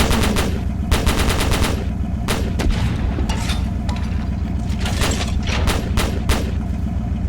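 Rapid bursts of anti-aircraft cannon fire from a video game, loud and near, with rattling automatic volleys and heavy booms repeating steadily over a constant low rumble and no talking.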